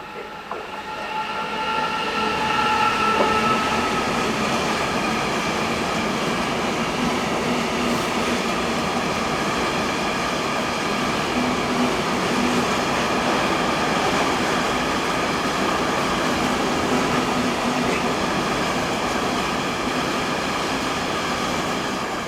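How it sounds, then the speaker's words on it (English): A freight train hauled by a class 159 locomotive with Innofreight tank wagons rumbles steadily past Hannover-Linden station, a continuous loud roar of wheels on rail sustained for over twenty seconds. "One 159-222 was next, with another set of Innofreight tanks from Wunsdorf to Gerstungen."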